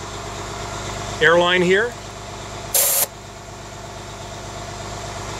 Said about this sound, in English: we have the RV fired up and on fast idle